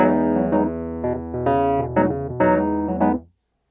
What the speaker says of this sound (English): a classic one for me is putting a Wurlitzer through the small amp.